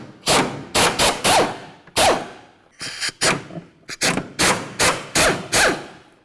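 Rear shock upper mounting bolts coming off a 2004-12 Volvo S40 inside the wheel well: a series of short, loud hammering bursts of an impact tool, about a dozen in all, separated by brief pauses.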